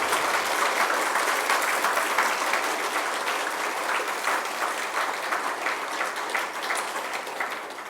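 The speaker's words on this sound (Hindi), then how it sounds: "हमारी मातृशक्ति, इनके सम्मान में हम विशेष तालियों की गड़गड़ाहट कर रहे हैं" A large audience claps loudly and continuously in a thick, even roll of applause honoring women, holding strong throughout and tapering only slightly at the close.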